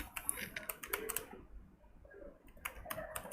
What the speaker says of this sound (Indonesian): Nanti saudara tinggal mengetik keywordnya saja.